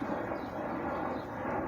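A distant airplane passes overhead, a steady broad faint roar heard outdoors on a holiday with no speech.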